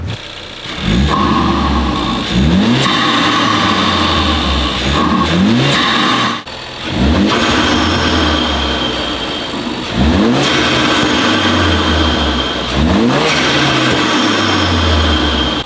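Ford Focus RS/ST turbo engine with an inexpensive aftermarket intake, revving repeatedly in loud rising pulls with turbo whoosh and whistle between runs, close by and with no voices.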